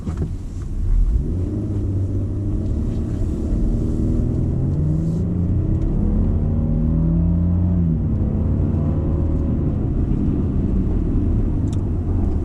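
A Lexus LX600 engine pulls hard on the road, a deep rumbling drone with rising engine tones sweeping upward as it accelerates, loud and steady from inside the cabin for the whole stretch.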